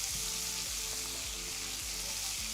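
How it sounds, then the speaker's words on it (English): Garlic, chili and asparagus sizzle steadily in a pan for vegan aglio e olio pasta. A few dull knocks and scrapes sound as the pan is shaken and stirred under the constant close hiss. "Going to shake the pan. Stir things over a bit."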